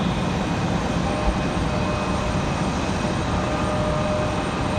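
Airliner engines roar steadily at an airport on a windy day, a dense unbroken rumble and whine that stays loud and even throughout with no voices.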